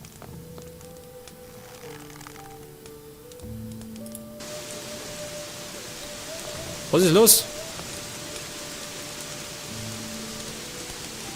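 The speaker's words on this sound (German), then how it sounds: "Scheinbar soll das Regen sein." Soft, steady hiss of rain in Gothic 3 fills the background while the game plays, with a brief voice speaking over it and a short loud tonal blip midway.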